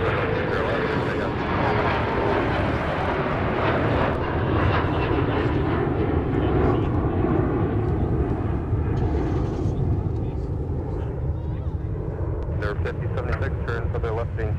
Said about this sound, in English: Here comes that Endeavor flight to Cincinnati, 5026.